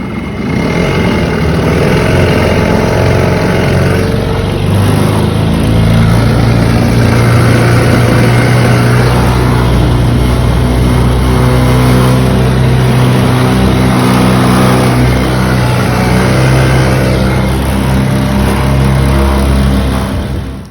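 A hobby mechanic's engine, freshly running after a carburetor clean, runs steadily and loud and close for about twenty seconds with a low, continuous hum and mild revving swells, with no talking.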